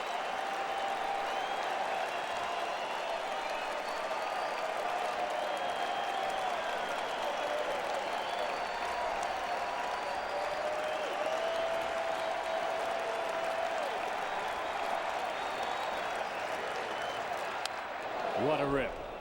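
Baseball crowd at a 2008 playoff game between the LA Angels and Boston, cheering and applauding in a loud, sustained roar that holds steady throughout and ends with an abrupt thump.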